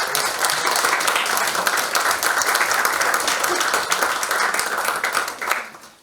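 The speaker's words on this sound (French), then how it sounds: "Alors je pense qu'on peut l'applaudir" Applause at a municipal council meeting in Lys-lez-Lannoy honouring Agnès Lelanic, a room of people clapping steadily and briskly for about six seconds before it fades at the end.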